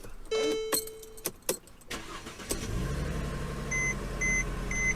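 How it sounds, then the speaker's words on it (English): A few clicks and a brief tone, then a Mercedes-Benz car engine cranks and settles into a low idle while repeated electronic dashboard chimes beep. "So let's go ahead, jump inside the car. Turn it on."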